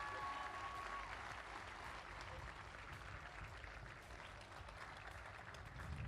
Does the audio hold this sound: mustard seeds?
no